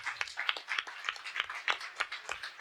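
Church congregation clapping together in quick, fairly regular rhythmic claps, a steady patter of many hands at moderate distance, without voices over it.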